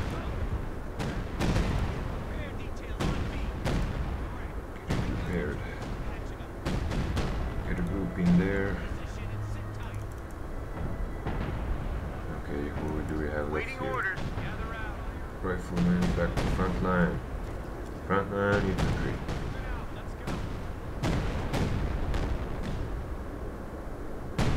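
Repeated booms and gunfire of artillery fire support in a Company of Heroes 2 Ardennes Assault battle at Elsenborn Ridge, sharp blasts scattered throughout under steady talking.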